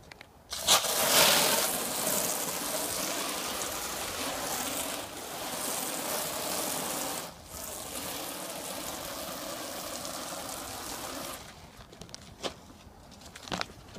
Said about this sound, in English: So you just start spraying this side and inside with a water hose or anything.